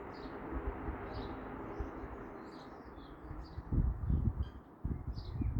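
Herring gulls call outdoors in scattered short cries, faint and somewhat distant, over steady wind and rustling with a few louder close bumps.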